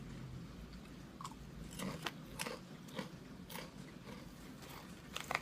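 Someone crunches a crispy wasabi-flavoured baked snack from Daiso. Close, quiet bites and chewing crackle in an irregular rhythm, with no talk over them.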